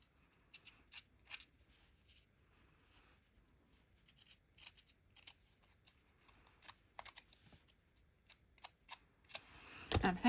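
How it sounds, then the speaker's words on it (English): Small snips cut paper during card stamping, giving a string of quick, close, crisp snipping clicks in irregular bursts with quiet pauses between them, ending with a louder handling rustle. "I just want to rough up that edge a bit more."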